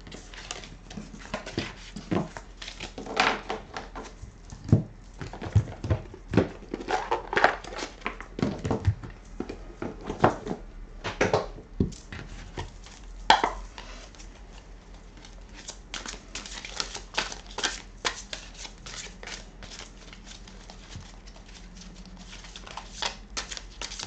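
Guardian angel tarot cards being shuffled and drawn by hand, a long run of soft, close papery flicks and riffles in irregular bursts, with quieter gaps between handling.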